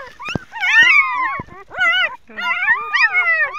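Newborn puppies whimper and yelp in high, wavering cries, several overlapping bursts with short pauses between them, close and fairly loud.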